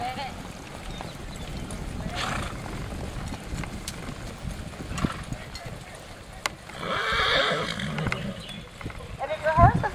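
Drill team horses trotting in an arena during practice, faint irregular hoofbeats under an instructor's ongoing talk, with a few louder bumps and thuds toward the end.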